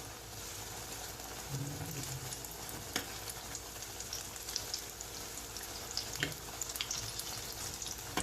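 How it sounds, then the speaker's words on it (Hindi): Sindhi potato pakoras fry in oil over a low flame, giving a soft, continuous crackling sizzle with scattered pops and an occasional clink, close but quiet. "इन्हें अच्छे से फ्राई होने दीजिए ताकि जो हमारा आलू है वो अंदर से अच्छे से पक जाए।"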